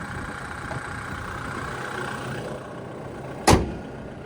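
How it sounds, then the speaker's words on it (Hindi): Toyota Fortuner with the air conditioning off, its engine idling at a low, steady hum close by. A sharp knock or door thump cuts in near the end. "एसी ऑफ है पर तब भी ना ज़्यादा वाइब्रेशंस है ना ज़्यादा इंजन नॉइस है।"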